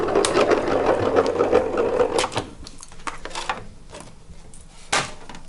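A hot foil die-cutting machine is wound through by hand, giving a rapid ratcheting mechanical whir up close, followed by scattered clicks and knocks as the plates pass through.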